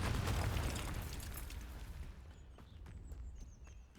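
A Confringo fire spell blasts in Hogwarts Legacy, a loud burst that rumbles and fades over a couple of seconds, followed by a few sharp crackling pops.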